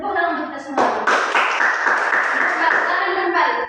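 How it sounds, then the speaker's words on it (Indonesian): A first-grade class in an elementary school classroom claps together in a sustained burst of applause lasting a few seconds, with voices mixed in. "Tepuk tangan untuk kita semua"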